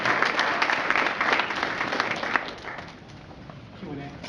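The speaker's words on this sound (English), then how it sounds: "Give yourselves a round of applause" A university crowd at a health talk applauding, a dense wash of clapping that thins out after a few seconds as voices carry on underneath.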